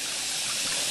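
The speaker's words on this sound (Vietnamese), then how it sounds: "Cái suối này nghe các bạn." Forest stream in summer woodland, water flowing and rushing steadily at close range as a dense, continuous wash with no pauses and no voices.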